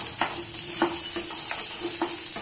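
One cup of onions frying in a pan for ridge gourd curry, a bright continuous sizzle with regular stirring scrapes about every half second, close and clear with no voices.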